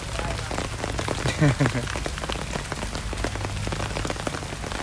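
Steady rain pours down at an outdoor takraw match, a dense, even hiss of drops on surfaces that fills the whole stretch, with a voice speaking briefly through it.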